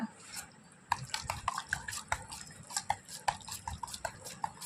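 A ladle stirs pearl millet porridge (kambu koozh) in a pot, giving a run of close, irregular scraping and wet sloshing strokes with small clinks against the vessel, fairly steady after a quiet start.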